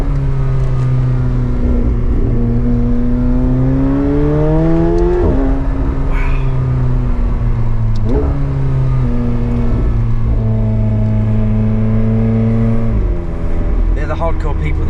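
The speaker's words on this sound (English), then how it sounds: "the engine feels so lively now with that exhaust system" A McLaren 750S engine and exhaust pull hard through rising, shifting revs in steady acceleration runs, loud and close from inside the cabin, with voices talking over it.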